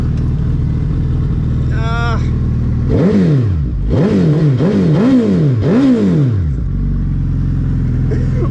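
A Suzuki Hayabusa motorcycle is revved hard in first gear, with about five sharp rising-and-falling throttle blips close up after a steady idle, while someone talks nearby.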